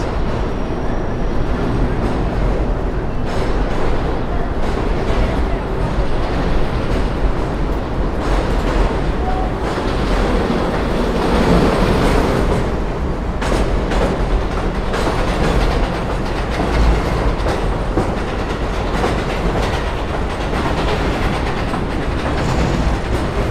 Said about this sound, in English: Also the rush of trains above